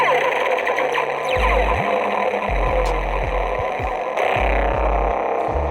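SaberForms Redeemer MK3 lightsaber on its Electric Essence sound font: a steady electric hum runs throughout, punctuated by repeated low swooshing swings and a louder surge near the end, close and alone.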